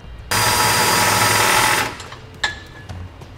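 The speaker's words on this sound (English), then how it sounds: "We're going to drill those out using an 11/16 drill bit." A power drill fitted with an 11/16 bit bores a hole during a Curt underbed gooseneck trailer hitch install on a Ram 2500. It gives a loud whirring burst of about one and a half seconds, then a few brief clanks.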